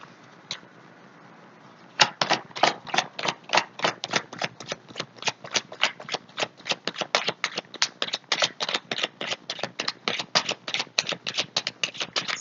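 A tarot deck is shuffled close by, a quick run of crisp, rhythmic riffling flutters following a single sharp snap, the papery bursts repeating steadily with no voice over them.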